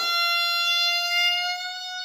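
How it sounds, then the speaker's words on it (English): A single bowed fiddle note, sliding quickly up to pitch, then bright and steady, held for about two seconds before fading slightly, with no talking. "I want to slide quickly to the note"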